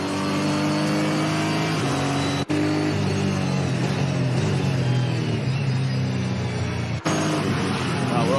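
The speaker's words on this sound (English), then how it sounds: "let's just have a listen to Lee Stibbs in the Hi-Tec Oils Innovation Race Car" Onboard roar of the Hi-Tec Oils Innovation race car at Mallala during a Super Series race, a loud continuous engine drone with shifting revs and two brief gear-change dips, close and dominant throughout.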